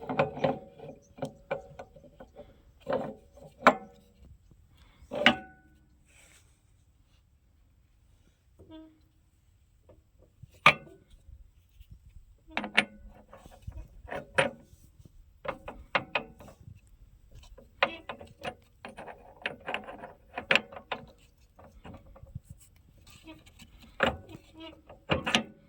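Metallic clanks and ratcheting clicks as a rotavator gear is fitted into place, scattered sharp knocks in irregular bursts with someone talking between them.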